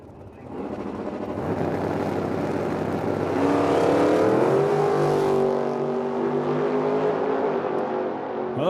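Drag racing cars, including a small roadster, launch down the strip at a Medicine Hat summer classic meet with a loud, sustained engine roar that climbs in pitch through the gears, close and continuous for several seconds.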